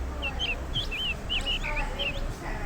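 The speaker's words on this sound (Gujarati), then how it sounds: "ચાલો તો આ હતા ચકલીબેન" Sparrows chirp in quick, high, twittering bursts, fairly close, over a low steady background hum, with a voice faintly underneath.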